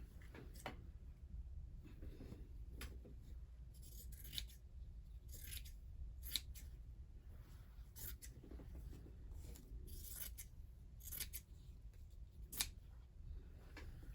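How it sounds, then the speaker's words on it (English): Scissors trim a piece of fabric for a machine-embroidered coaster, producing a series of faint, crisp snips at irregular intervals over a quiet room background. "Don't really need this large of a piece of fabric. I think I'm going to trim it down a little bit."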